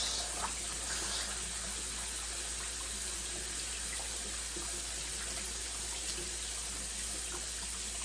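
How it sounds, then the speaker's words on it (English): Cold water pours over a pressure cooker while cooking Cuban black beans, a steady broad rush of running water like a tap filling a sink, continuous and fairly close for the whole stretch. "So as you pour cold water"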